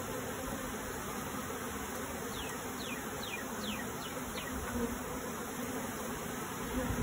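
A captured honeybee swarm fans and buzzes outdoors, a continuous, even, fairly soft hum of many wings with faint bird chirps above it and no talking.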